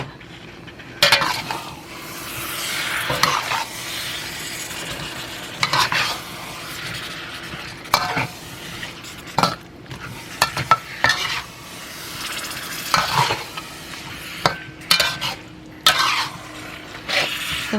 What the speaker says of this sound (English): I'm going to mix it up, stir it up for a few minutes.